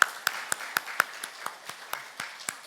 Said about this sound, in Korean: 여러분 자신을 위하여 축복의 박수 하시겠습니다